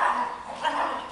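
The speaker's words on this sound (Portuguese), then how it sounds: "E os outros aqui é os cachorros." A brief burst of dog barking and yipping, fairly close, lasting only about a second.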